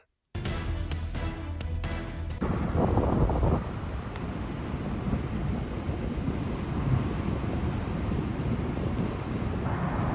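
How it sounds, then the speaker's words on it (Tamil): Storm wind roars steadily and loudly against the microphone, with a heavy rumble of thunder near the start; the gusty noise continues unbroken, with no talking. "ஒரு சிறிய புயல் இந்த வீட்டை சுக்குநூறாக்கிவிட்டது"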